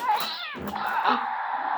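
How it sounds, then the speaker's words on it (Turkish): Cat meowing close by, giving one drawn-out, strained call and then a second lower whining yowl, heard indoors while kids play with Akedo toys. "Kedi."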